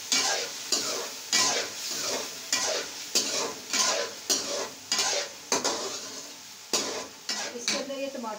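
Tomatoes sizzling and frying in a pan of karela gosht (bitter gourd and meat curry) while being stirred, with a spoon scraping the pan in regular, repeated strokes about every half second over a constant loud hiss.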